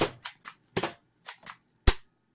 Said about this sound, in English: as you can see, I just dry fired